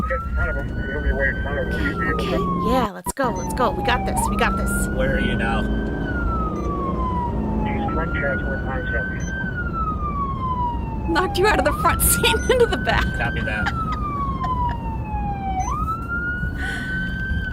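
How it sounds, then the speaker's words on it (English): Emergency siren from an ambulance passing in live traffic, a loud wailing sweep rising and falling repeatedly over several cycles, with people talking over it inside a car. "Oh, we got an ambulance."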